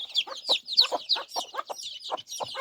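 Local chickens on a small poultry farm cluck close by in quick, rhythmic bursts. Short overlapping calls repeat steadily with brief gaps between them and no talking.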